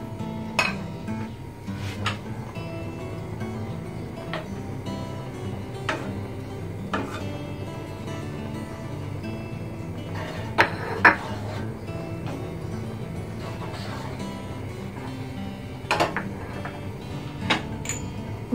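Onion going into olive oil in a pan, heard as close clinks and scrapes of utensils against cookware with a few sharper knocks over a low steady background, no talk.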